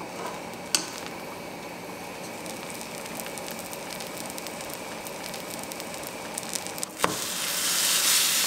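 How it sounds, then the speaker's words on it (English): Butter sizzling in a pan before bread is toasted, a soft steady crackle with a couple of sharp clicks, swelling louder near the end. "Let's add some butter to our pan."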